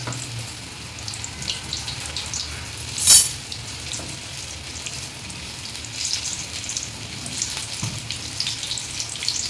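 Bajji batter fries in hot oil in a North Karnataka style kitchen, giving a continuous close sizzle with one sharp clatter partway through.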